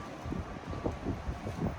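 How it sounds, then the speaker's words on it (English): Strong wind buffeting the microphone in steady low rumbling gusts, with rustling noise throughout and no voices. "that's how windy it is today"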